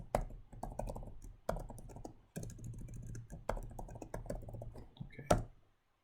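Quick bursts of typing on a computer keyboard sound close up, with clustered key clicks broken by brief pauses and a sharper tap near the end before it goes quiet.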